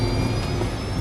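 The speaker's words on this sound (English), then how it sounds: "The pilots try using engine power to turn the airplane towards Haneda." Japan Airlines Flight 123, a jet airliner, has its engines pushed to higher power, a steady, dense low roar with a sustained high whine running through the whole second.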